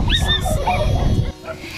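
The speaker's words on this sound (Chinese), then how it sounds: "一只小狗，两只小狗，三只小狗，七八只小狗，小狗狗全部都在这个呃沙发底下" Several puppies hidden under a sofa whimper and yip in high, wavering cries, close and fairly loud, while someone talks over them.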